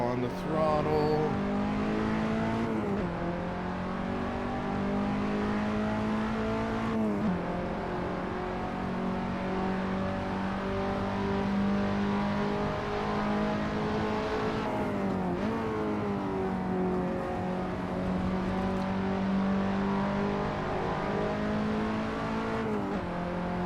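A KTM X-Bow race car on the Silverstone GP circuit in a racing game, its engine droning loud and steady, climbing through the revs with brief dips at gear changes, continuous throughout.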